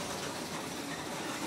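A small monorail car riding along its track makes a steady, low, even rumble from inside the cabin, with no talk over it.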